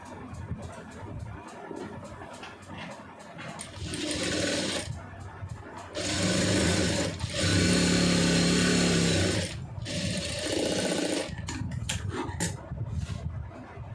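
A sewing machine stitching a fabric band, running in several loud, steady whirring bursts of a few seconds each, separated by brief pauses and handling noise, up close with no talking.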